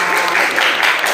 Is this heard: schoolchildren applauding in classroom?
yes